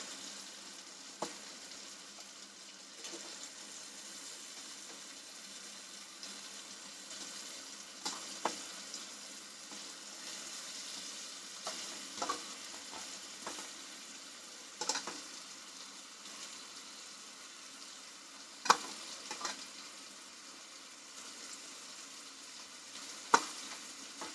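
Green onion frying in a pan gives a quiet, steady sizzle, broken by occasional sharp clicks and scrapes of stirring.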